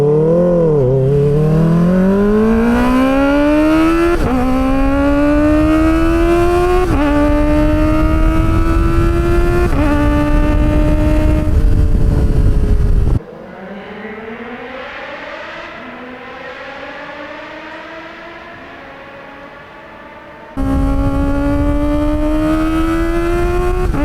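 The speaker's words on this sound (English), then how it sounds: "Now let's go fucking redline it." A Kawasaki ZX-4RR motorcycle running with no exhaust is revved hard toward redline, its loud engine note rising in repeated sweeps, dropping briefly, then climbing again in a sustained high-pitched scream.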